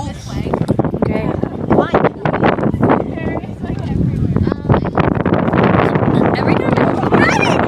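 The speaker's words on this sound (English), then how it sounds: "I don't know if you guys can see how bad the wind's blowing." Strong wind gusts buffet the microphone outdoors, a loud rough rumbling throughout, while people talk and exclaim over it.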